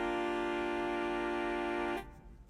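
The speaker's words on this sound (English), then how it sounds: "we're going to replace our major seven with a sixth" Horn section sustaining a single chord with a sixth replacing the major seventh, held evenly and full for about two seconds before a clean cutoff. No speech.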